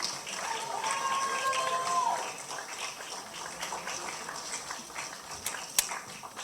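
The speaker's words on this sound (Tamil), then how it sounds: "ஒரு பெரிய கைத்தட்டல், ladies and gentlemen" Audience applause at a film event in Chennai: a steady wash of clapping from a crowd that holds for several seconds, with faint tonal whistles over it and a sharper pop near the end.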